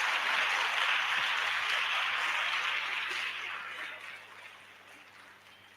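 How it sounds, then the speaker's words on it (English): Audience applause at a primary school borehole handover ceremony in Lenasia, steady dense clapping from a sizeable crowd that gradually thins and fades toward the end. "Please give her a round of applause as she walks up to stage."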